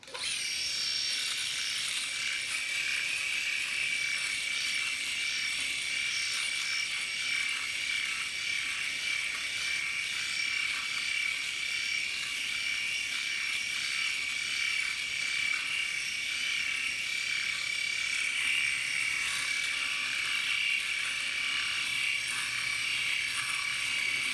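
A Philips S9000 Prestige electric shaver runs on a dry face with no shaving cream, giving a steady high-pitched buzzing hum that holds evenly and close for the whole stretch, with no talking.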